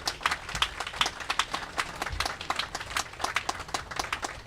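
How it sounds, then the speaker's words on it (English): Scattered, uneven clapping from an audience at a comfort women memorial unveiling, honoring a former councilman; claps come as separate sharp hits of moderate loudness at a middle distance, never building into a dense roar. "If you would just give him a round of applause."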